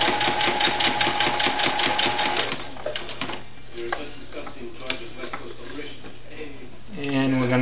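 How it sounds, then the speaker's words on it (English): A serger sewing machine stitches elastic onto a small doll dress, its rapid mechanical whirring and ticking running steadily up close before slowing. The motor revs up again at the end. Nobody speaks. "we're going to sew that right up the other side"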